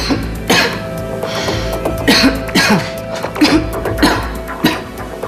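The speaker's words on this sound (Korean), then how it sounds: "목이 간질간질하면서 또 이제 계속 기침이 나오고" A series of harsh, repeated coughs and throat clearing from a woman with an irritated throat, close up, in irregular bursts.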